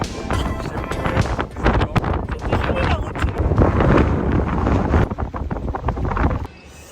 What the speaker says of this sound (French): très venteux aujourd'hui.